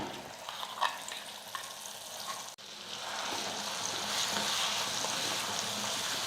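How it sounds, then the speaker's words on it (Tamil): Steady crackling sizzle of ground garlic chutney frying in hot oil, close up, with a few scrapes of stirring early on before the sizzle intensifies. "சட்னி சேர்த்ததுக்கப்புறம் ஒரு நிமிஷம் நம்ம எண்ணெயில் வந்து நல்லா கொதிக்க வச்சுக்கலாம்"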